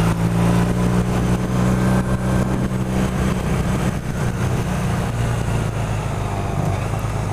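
A Honda CB450 Custom motorcycle engine runs steadily with a low, even drone that stays loud and constant with no breaks, carrying along a neighborhood ride.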